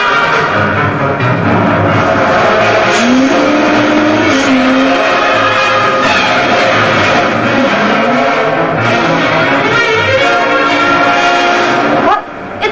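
Cartoon car engine drives steadily under a busy animated soundtrack, with rising whines and a tire-squeal-like sweep near the end; the roar stays loud and continuous throughout.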